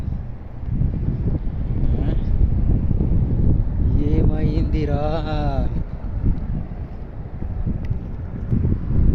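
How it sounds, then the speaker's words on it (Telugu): Steady roar of strong wind buffeting the microphone throughout, with a voice speaking briefly in the middle. "భయంకరంగా తోలుతుంది గాలి"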